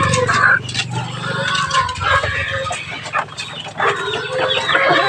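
Hens, including a brood hen, cluck and chatter repeatedly in a busy farmyard, fairly close, with other bird calls and some background voices mixed in.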